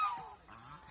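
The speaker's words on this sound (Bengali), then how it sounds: "খাওয়ার পরে হাঁসগুলিকে নিয়ে আসলাম দানাদার খাদ্য দেওয়ার জন্য" Geese honk in short nasal calls while pecking at grain feed on a duck and goose farm, a few overlapping calls close by over a quiet background.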